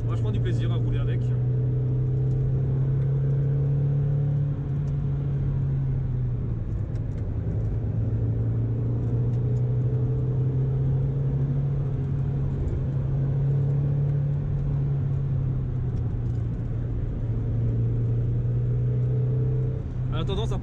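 A Mazda MX-5 NB heard from inside the cabin while driving, a steady low engine drone and road rumble holding constant, with a person talking over it.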